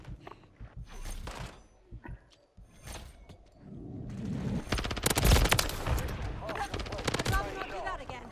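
Modern Warfare 3 gunfire builds from scattered shots into a loud, sustained automatic burst in the second half of the clip, with someone talking intermittently over the shooting.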